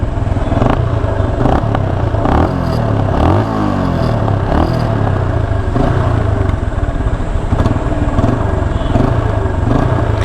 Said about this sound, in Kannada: ಈ ಥಂಪಿಂಗ್ ಸೌಂಡ್ ಕೇಳೋಕ್ಕೆ ನಂಗೆ ಸಿಕ್ಕಾಪಟ್ಟೆ ಇಷ್ಟ ಆಗೋರು ಗಾಡಿಯಲ್ಲಿ